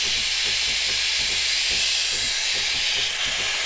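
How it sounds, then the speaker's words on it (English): A Breville Barista Pro espresso machine's steam wand steams with a loud, steady hiss that runs without a break. A faint rhythmic clatter sits low underneath it. "so let me show you the steaming."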